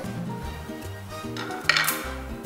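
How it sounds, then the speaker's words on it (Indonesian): Freshly deep-fried food is served onto a plate in a kitchen, with soft clinks of a utensil and dish, a sharper metallic clink near the end, over background music. "dan kita akan menghidangkannya di pinggan hidangan kita"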